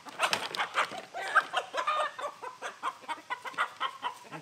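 A rooster being introduced to an existing flock clucks and vocalizes in a series of short, close, rhythmic calls, with other chickens murmuring nearby.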